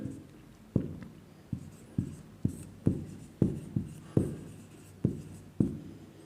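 Pen or chalk strokes tap and scratch as a parallelogram-area formula is written out during a 9th-class math lesson, about a dozen distinct, evenly spaced strokes heard up close in a quiet room.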